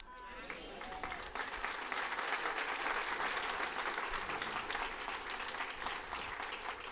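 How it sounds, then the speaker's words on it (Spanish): Congregation at a church service applauds in a continuous wash of clapping that swells and holds, with faint voices mixed into the crowd. "Qué bueno que aplaudieron"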